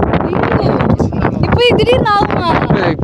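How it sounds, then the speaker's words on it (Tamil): Strong sea wind on a fishing boat out at sea buffets the microphone in a steady rough roar, running beneath someone talking loudly and close throughout. "இந்த பாருங்கள் எவ்வளோ காற்று நிற்கிது"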